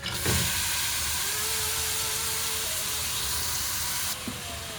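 Chopped onions sautéing in two spoonfuls of butter in a pan, lightly salted: a steady, close sizzling hiss that holds evenly throughout with no talking.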